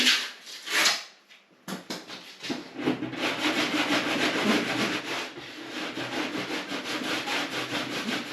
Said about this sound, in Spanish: he lijado todas las partes afectadas con lija de 80